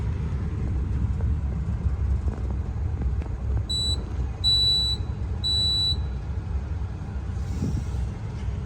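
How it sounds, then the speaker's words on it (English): A home fire alarm system sounds three steady high electronic beeps in a row over a constant low rumble of room noise. "Fire alarm."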